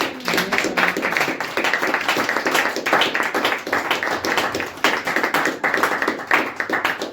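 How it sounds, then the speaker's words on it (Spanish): A church congregation claps hands in praise during a Spanish-language service, a dense, steady rhythmic clapping that carries on throughout without pause, fairly loud and close. "Den una ofrenda de palmas al Señor"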